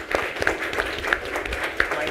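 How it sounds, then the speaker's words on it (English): A school board meeting audience applauds a new principal, a modest room of people clapping steadily with a few sharper individual claps standing out. "give a round of applause for our"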